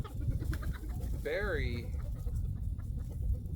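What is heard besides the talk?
roosters clucking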